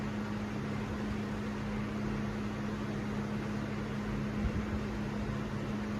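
A Casablanca Four Seasons III ceiling fan running on high, a steady close whooshing roar of moving air with a constant low motor hum throughout and a faint knock near the end.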